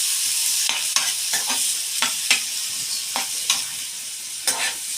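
Onion and tomato stirred in a frying pan for pav bhaji, a bright steady sizzle broken by repeated spoon scrapes and knocks against the pan at irregular intervals, close and alone.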